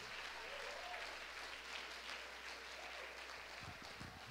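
Church congregation applause, a faint, even patter of many hands clapping throughout, with a few heavier thumps near the end.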